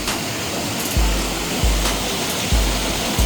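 A small stream of water flows along a path near a castle in Cornwall, a steady broadband rush with periodic low thumps from wind or handling.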